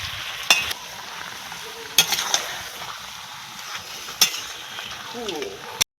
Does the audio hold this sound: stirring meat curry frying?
yes